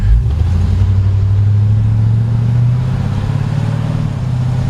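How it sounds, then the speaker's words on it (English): A 1954 Ford F100 pickup's engine runs close by with a loud, steady low drone and slight rise in pitch, holding constant throughout with no talking. "the engine runs perfect, transmission shifts out great."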